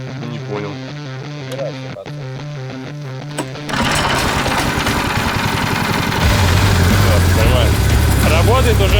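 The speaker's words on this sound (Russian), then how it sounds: "Собственно, заводим, и первый запуск, первые тесты." A small engine on a homemade wooden go-kart is started and fired up for its first run. A quieter opening gives way to an abrupt, loud, steady running drone that grows heavier and louder toward the end, with a voice faintly present.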